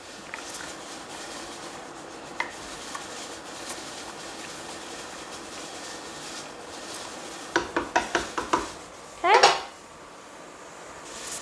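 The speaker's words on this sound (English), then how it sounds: "I'm going to keep stirring it though because we don't want the meat to get stuck at the bottom" A spoon stirring ground beef in a pot of boiling liquid while canning sloppy joes, steady bubbling simmer throughout with a quick run of scraping, clinking strokes near the end.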